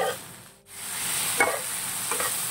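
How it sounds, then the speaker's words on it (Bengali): Pre-boiled soya chunks get stirred into a simmering egg and potato curry in a pan, making a brief sizzling hiss with a couple of spoon scrapes at close range and no talk. "এবার দিয়ে দেবো সয়াবিনগুলোকে আমি আগে থেকে বয়েল করে রেখেছিলাম। ভালো করে মিশিয়ে"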